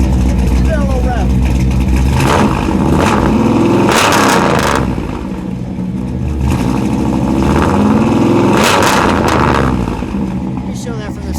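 A 1963 Chevrolet Impala hardtop with a 409 V8 idles with a deep, loud rumble, and the engine is revved twice in swelling bursts that fall back to idle. A voice is partly audible under the engine.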